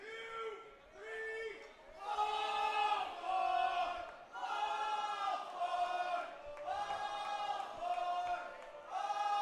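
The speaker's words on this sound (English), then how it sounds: "Fans loud early here in London trying to cheer on the Majors." Baseball fans cheer loudly at an Intercounty Baseball League game in London as the Majors host the Hamilton Cardinals, a sustained roar of crowd voices rising and falling in waves over several seconds.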